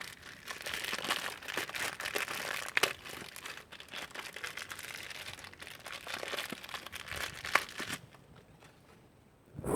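Plastic and foil packaging of a toy pony crinkles and crumples steadily up close, with a few sharper tearing crackles, then drops toward quiet near the end.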